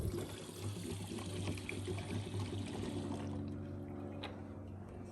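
Fuel pours from a container into a lawn mower's tank, a steady liquid gurgle and trickle close by over a low background hum, tapering near the end.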